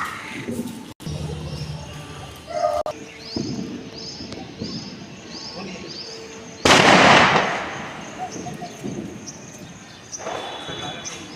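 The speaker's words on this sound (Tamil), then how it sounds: "நான் அணுகுண்டு வைக்கிறேன்" A Diwali "atom bomb" firecracker goes off in one sharp, loud blast partway through, its crack ringing out and fading, while people talk before and after around the festive outdoor celebration.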